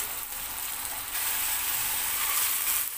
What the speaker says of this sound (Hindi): प्याज भुनना शुरू हो गई है